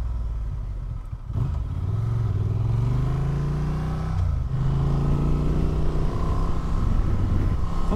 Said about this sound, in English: it's also going to be quite a nice revvy engine.